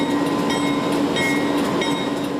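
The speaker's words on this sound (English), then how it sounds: "one of Australia's most famous trains is chugging along through the outback once more." The Ghan passenger train rolls steadily through the Australian outback, a continuous rumble with faint rail clatter and a high whine, loud and close throughout.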